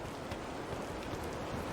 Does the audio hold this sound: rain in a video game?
yes